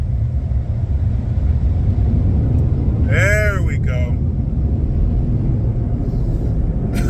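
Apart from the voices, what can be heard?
dryer running loudly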